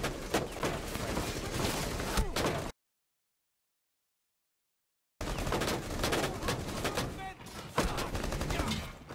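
Dense, sustained gunfire from Rainbow Six Siege rattles loudly in two bursts separated by a dead-silent gap, with rapid shots layered over one another.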